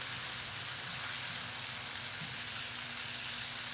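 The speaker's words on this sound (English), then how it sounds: "Let's just saute this a bit." A steady, close sizzle of onions sautéing in a pan, a continuous crackling hiss with no voices.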